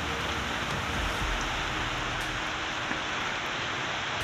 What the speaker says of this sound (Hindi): कितना भयंकर बारिश पड़ रही है